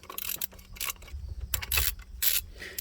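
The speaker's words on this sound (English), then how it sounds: "just go ahead and get these bolts tightened down. This is a 9/16 bolt head." A ratchet tightens 9/16 head bolts on a 1999-2004 Jeep Grand Cherokee engine during a head gasket job. It gives bursts of quick metallic clicking close up, broken by short pauses between strokes.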